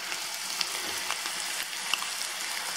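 Spice paste mixture hitting a pan of translucent frying onions for stuffed mushrooms, giving a steady, moderately quiet sizzle with scattered small pops and crackles throughout.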